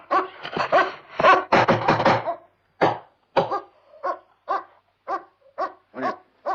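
A dog gives a burst of rapid, loud barks up close, then a steady series of shorter yips and whimpering cries with short gaps between them, no voices over it.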